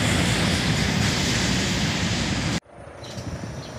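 A helicopter flies in to land at a hospital, its loud, steady roar filling the air before cutting off abruptly near the end, leaving a much quieter background.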